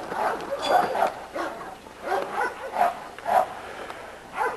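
A young dog lets out repeated short yips and whiny barks close by, in bursts of two or three with brief pauses between, at moderate volume in an outdoor yard.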